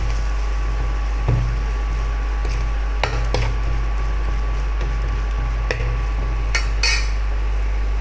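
Spices, including coriander powder, being stirred and fried in a pan for KakkaRotti: a spoon clinks and scrapes against the pan in scattered, sharp knocks over a steady low kitchen background, with no talking.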